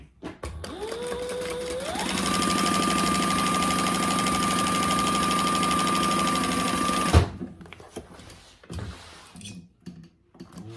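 A sewing machine bastes a long stitch on a beginner's fabric bag. Its motor whirs up in pitch and then runs at a steady, loud hum for about five seconds before stopping abruptly, leaving only faint handling noises afterwards.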